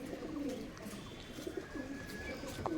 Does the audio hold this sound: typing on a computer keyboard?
no